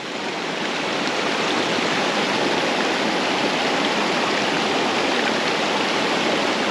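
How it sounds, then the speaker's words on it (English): A steady, dense rush of flowing stream water, loud and close, continuous with no pauses and no voices. "because of the stream noise"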